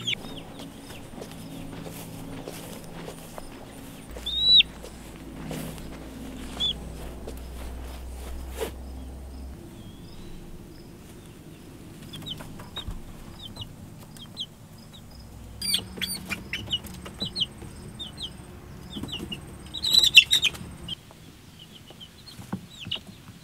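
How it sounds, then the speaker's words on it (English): Young chicks in a new hoop coop built from cattle panels cheep in high, scattered bursts, with heavier peeping late on, over faint background noise and occasional rustling. "All right, all the chicks are out in their new coop."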